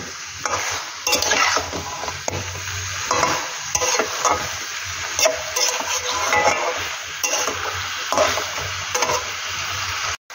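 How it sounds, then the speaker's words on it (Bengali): Chicken pieces stirred in a hot pan over a medium gas flame, a continuous loud sizzle of frying with repeated scraping strokes of a spoon against the pan throughout. "খুব ভালোভাবে এটাকে নাড়াচাড়া করতে হবে।"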